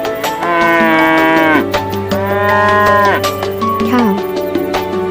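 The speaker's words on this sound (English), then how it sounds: "Cow." A cow moos loudly up close, giving two long, drawn-out lowing calls and then a shorter third one.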